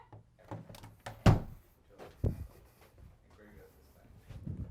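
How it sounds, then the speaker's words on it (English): A single solid thunk of a door being shut, with a second softer knock a moment later, amid quiet room noise and brief speech. "Can I shut the door?"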